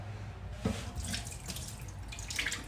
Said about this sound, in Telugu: చాలా నీట్గా కడగాలండి చాలా టైం పడుతుంది కడగడానికి